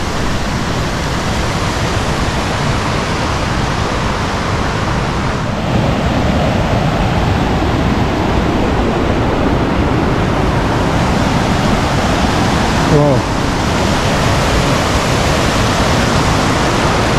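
Clear mountain water rushes at the source of the Siran River, a continuous loud broadband roar with no talking.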